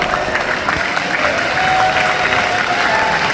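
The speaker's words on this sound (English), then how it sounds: "Give her a round of applause." A convention audience in San Diego applauds, a loud steady wash of many hands clapping with some crowd noise mixed in, sustained for several seconds.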